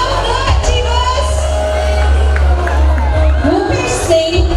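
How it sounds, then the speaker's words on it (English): A college freshers' day audience roars with loud, sustained cheering, whoops and shouting from a large crowd of students, filling the hall continuously from start to end. "Rupesh Singh, a big round of applause to all of the achievers."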